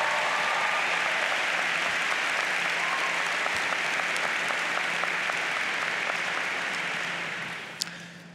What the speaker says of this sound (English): Can we give them a round of significant applause?